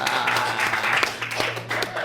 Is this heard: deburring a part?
no